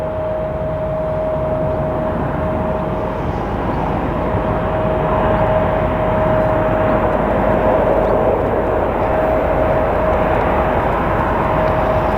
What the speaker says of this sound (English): we might actually have some aeroplanes